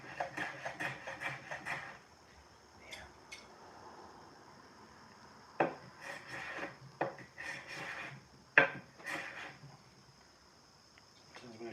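Hand tool paring wood to seat a cabinet door hinge, a slightly dull blade pushed and pulled in short bursts of scraping rasps, close and moderately loud, separated by quieter pauses.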